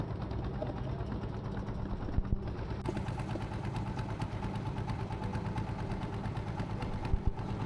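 The engine of a trawler crossing a river in Khulna drones in a steady, mid-pitched rumble with a rapid, even chug, close and unbroken throughout, with no voices.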